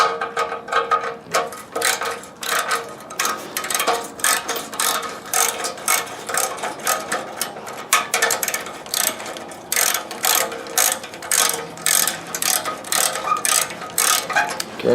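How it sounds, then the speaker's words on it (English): A ratchet wrench loosens the exhaust clamp bolt on a 2013 Kawasaki Ninja 650, giving rapid, close clicking in steady repeated bursts with short gaps between strokes, and no voices. "And remove and loosen the clamp bolt, or loosen and remove."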